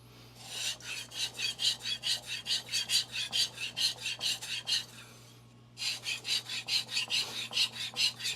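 A hard steel knife blade scrapes back and forth on a King Hyper whetstone in steady, rhythmic strokes, a smooth rasping hiss that pauses briefly before resuming, under a low background hum.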